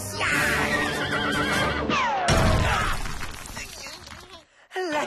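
Cartoon horse from a French animated series whinnies loudly, a bright rising and falling neigh, with a sharp crash and shattering burst in the middle and a brief second neigh at the end.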